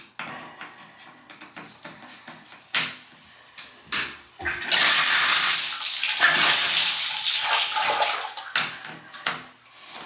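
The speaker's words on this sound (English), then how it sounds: "You gotta get the rag in there to stop the water from coming up that pipe." Water surging and gurgling back up through a bathtub drain pipe, irregular splashes and knocks building into a long loud rushing gush before tapering into scattered sloshes.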